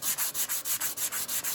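A glossy painted body panel on a 2010 Acura RDX being sanded by hand near a body line, steady back-and-forth strokes repeating about every fifth of a second, close and even with no talking.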